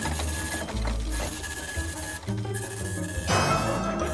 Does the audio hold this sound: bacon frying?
no